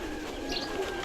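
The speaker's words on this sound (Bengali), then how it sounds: "এই যে একটা কবুতর" A pigeon at an old breeder's loft in Bangladesh, late afternoon outdoors, gives brief soft chirps and coo-like calls over a steady background hum, fairly faint and without any talking.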